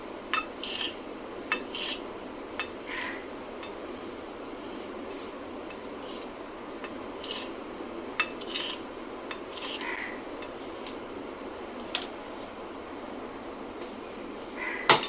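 A spoon or utensil cuts through set mango jelly in a dish, giving soft scraping strokes and light, irregular metallic clinks against the container, with some faint bird calls in the background.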